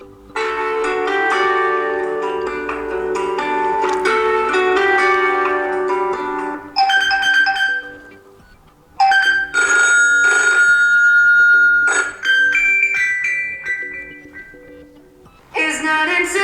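A HUAWEI Y6P phone plays its HUAWEI tune ringtone, a bright, bell-like electronic melody of chiming notes that comes in phrases separated by short pauses, loud and clear with no voices.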